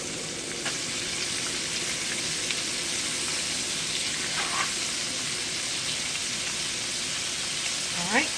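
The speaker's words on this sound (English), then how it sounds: "They're still frying in the frying pan." Steady, dense sizzling and crackling of chicken gizzards frying in hot grease, continuous and close throughout with no talking.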